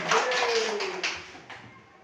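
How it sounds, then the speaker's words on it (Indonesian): An audience at a school gathering on positive culture claps hands briefly, a short burst with a few sharp claps trailing off. "Tepuk tangan sekali lagi untuk kita semua."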